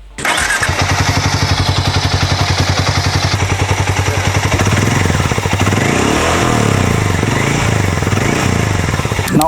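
A Hero Mavrick 440 or Royal Enfield Hunter 350 motorcycle engine runs steadily with a throbbing exhaust note, loud and close, its pulse rising and falling slightly in pitch as it revs.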